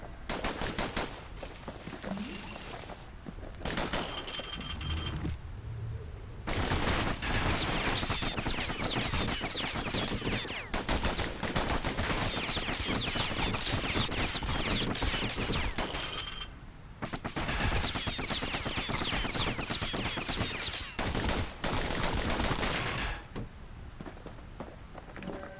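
Dense, relentless volleys of slinger pistol gunfire in the action game Bastion, rapid overlapping shots firing almost without pause, loud and close, broken only by a couple of brief lulls.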